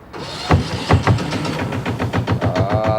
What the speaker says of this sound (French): Ah, ça c'est du bon moteur de péchou ça.